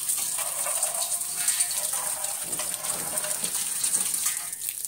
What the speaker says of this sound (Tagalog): So, pinupuno ko na yan ng tubig.